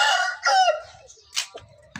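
A rooster crowing with a loud, close, drawn-out call, then a few short, fainter clucks from chickens in a village coop.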